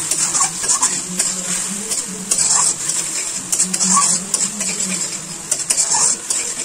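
Spice masala stir-fried with a splash of water hisses in a pan while a spatula scrapes and clinks against the metal in a loose, repeated rhythm.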